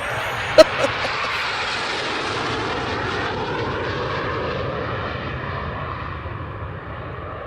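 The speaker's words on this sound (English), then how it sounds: "These are F-16 Tomcats or whatever were the equivalent of today." Low-flying military jet roars overhead, loud and sustained with a slowly shifting whine as it passes, alone after a brief knock at the start.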